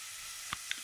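Chopped onion sizzling in hot oil in a pan on a gas hob, a steady low hiss with two brief sharp crackles rising above it.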